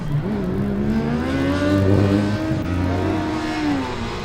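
A Formula Student race car on an autocross course, its engine note rising and falling through several sharp revving pulls as it nears the end of its run, loud and close with no talk.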